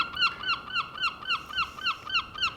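A seagull calls over and over in a steady run of sharp, bright cries, about nine in quick succession, moderately close and alone with no talking.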